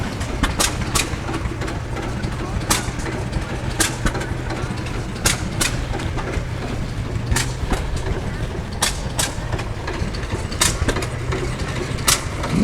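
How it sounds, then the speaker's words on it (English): Hit and miss engines fire in the background at a tractor and heavy equipment show, giving irregular sharp pops spread over a steady outdoor rumble with a low drone. "In the background you can hear these engines firing."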